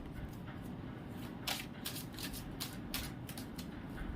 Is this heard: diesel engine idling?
no